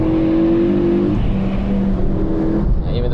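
Ford Focus RS500 driving hard on the Nürburgring, its engine note droning loud and steady from inside the car, with pitch shifting as it accelerates and a brief lift near the end.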